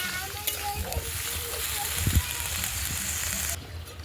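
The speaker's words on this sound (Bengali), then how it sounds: "এবার শাকটাকে দিয়ে দিলাম, শাকটাকেও দিয়ে ভালো করে খানিকটা কষিয়ে নেব" Greens sauté in a pan with fish head and spices, a soft continuous sizzle broken by stirring knocks and scrapes, while a muffled voice sounds faintly in the background.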